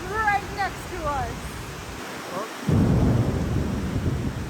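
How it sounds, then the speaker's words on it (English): A voice speaks briefly, then a deep, heavy rumble of thunder rolls in loud and close, booming under steady rain in Little India, Malaysia. "Thunder was like right next to us."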